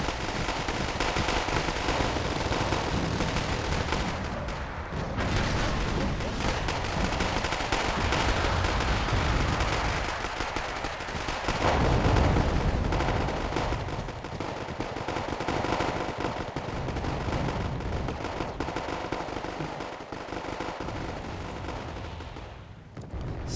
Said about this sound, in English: See here as we mortar this town.